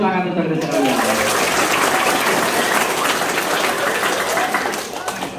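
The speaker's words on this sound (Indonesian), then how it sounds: "Harus harus harus tepuk tangan untuk adik sekalian." Loud, sustained applause from a crowd of middle school students at a drug-awareness talk in a school hall, a thick continuous roar of clapping that thins slightly near the end.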